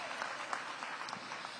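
An audience at a back-to-school welcome event for DC public school educators claps briefly, a soft, fairly distant patter of applause lasting under two seconds.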